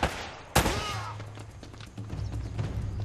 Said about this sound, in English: Headshot a moving target.